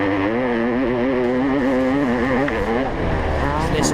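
A 1989 Honda CR500 dirt bike engine pulling up a hill, its loud two-stroke note climbing and wavering in pitch as it labours, steady and near throughout.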